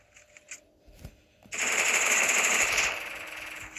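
A P90 submachine gun fires a sustained burst of rapid automatic shots lasting over a second, loud and dense, preceded by a few faint clicks and muffled thuds.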